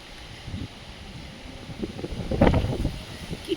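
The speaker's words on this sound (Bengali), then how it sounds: "কি ঠান্ডা হাওয়া দিচ্ছে" A cold, gusty wind rumbling against the microphone outdoors before a storm, low buffeting that swells to a strong gust near the end.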